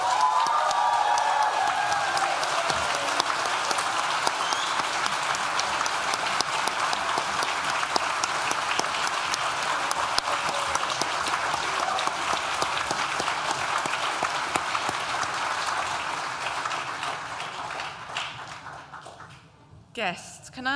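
A graduation ceremony audience gives a long, loud, sustained round of applause with cheering for the graduates, steady for most of the stretch before thinning out near the end.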